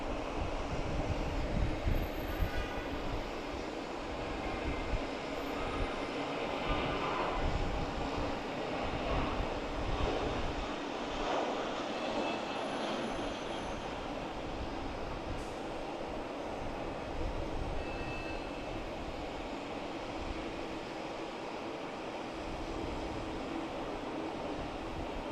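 A Spirit Airlines jet landing at Boston's Logan Airport, heard from a distance as a steady broadband engine roar mixed with wind rush, sustained and fairly even without any talk.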